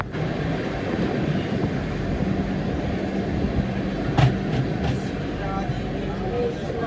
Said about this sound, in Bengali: এখন যে ট্রেনটা ক্রস করলো সেটা ছিল শতাব্দী এক্সপ্রেস।